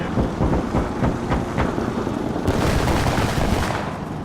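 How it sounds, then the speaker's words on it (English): Small arms gunfire in the military shooter Insurgency: Sandstorm, a dense barrage of sharp rifle cracks and bursts with booming rumble, sustained and loud throughout, with no talk. "Taking small arm fire."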